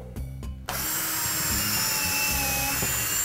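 A power drill bores pilot holes through drywall into a wall stud while a storage rack is being mounted. Two short close bursts come first, then a long sustained loud whine as the bit works through under load.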